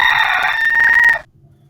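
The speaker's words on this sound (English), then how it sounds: "when we click on the pig, we hear a rooster noise" A cartoon rooster crows once as a sound effect in a Code.org app, a bright, loud cock-a-doodle-doo lasting about a second before cutting off into silence.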